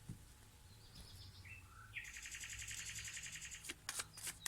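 A small bird chirps in quick, repeated high trills and tweets, with a brief sharper burst near the end. The calls are faint and distant over a quiet low hum, and no one speaks.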